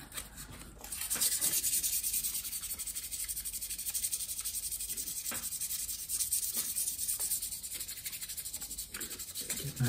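Steady, close rubbing hiss of a cloth or pad worked along the grain of a guitar neck while oiling and waxing it, a continuous bright scratchy wash with faint rhythmic strokes and no talk.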